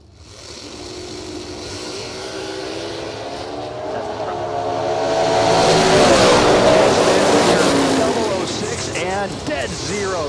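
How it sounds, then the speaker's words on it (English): Drag race cars at a drag strip, a 2000 Chevrolet S10 and an Oldsmobile wagon, launching from the line: engine roar builds to a loud, sustained howl and then fades slightly, with an announcer talking over it. "going to be chasing after John Roach in the Oldsmobile wagon"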